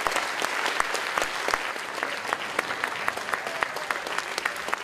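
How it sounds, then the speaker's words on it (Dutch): Sustained audience applause for school students at a Dutch future-themed event in Houten, a steady crowd clapping with scattered sharper claps standing out, fairly close and even throughout. "En ik wil heel graag een heel hartelijk applaus voor de leerlingen van Houten."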